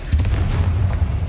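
A Confringo fire spell blast in Hogwarts Legacy lands as a loud, booming impact with a crackling rumble, short and close, with no voices.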